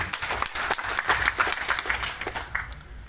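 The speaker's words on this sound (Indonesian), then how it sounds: "Tepuk tangan untuk ini dulu." Applause from an audience at a formal inauguration ceremony for a Christian state religious institute in Kupang, a fairly brief burst of clapping that swells and then thins out as it fades.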